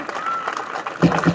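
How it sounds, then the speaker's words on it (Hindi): An audience at a Sardar Patel Jayanti gathering breaks into a brief burst of clapping that swells near the end, with voices audible in the background. "एक बार जोरदार ताली चाहता हूं।"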